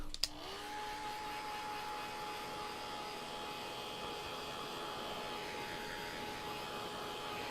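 A dryer runs steadily to dry a loose watercolor painting, a near, even whirring blow with a faint tonal hum that switches on after a small click and holds constant throughout.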